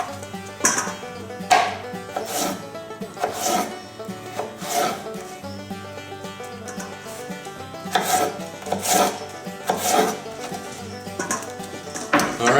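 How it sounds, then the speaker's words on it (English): A knife slices raw potatoes into french fries on a board, giving repeated rough scraping cuts in an uneven rhythm, close and fairly loud, with no talking. "You just cut the potato up,"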